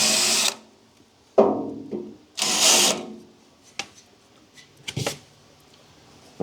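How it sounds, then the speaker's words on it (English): A deburring countersink tool briefly grinds the edges of a drilled hole in a steel truck bumper, in several short, sharp bursts separated by quiet gaps, close and fairly loud. "I have a deburring countersink tool. So we're just going to lightly hit each side."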